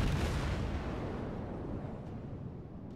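A booming, rumbling blast of heavy naval gunfire from the battleship Tirpitz in World of Warships rolls out and slowly fades over a few seconds, dense and loud with no voices.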